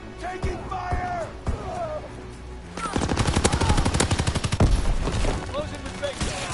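Gunfire in a PS4 shooter: sparse shots and scattered shouts at first, then a loud sustained burst of rapid automatic fire that gradually eases off, with a voice calling out in between.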